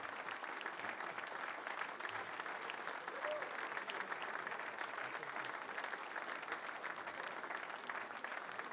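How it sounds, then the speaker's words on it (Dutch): A crowd at the Knoevelemint carnival in Maastricht gives the winners a sustained round of applause, a dense, even wash of many hands clapping that holds steady without a break and sounds somewhat distant. "dan gaan we die natuurlijk wegsturen met een joeksig applaus"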